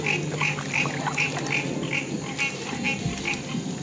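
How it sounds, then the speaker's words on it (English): Frogs croak by the Tennessee River at a campsite, a steady run of regular, evenly spaced calls, about ten in four seconds, repeating in the near distance over low outdoor background noise. "hear the frogs."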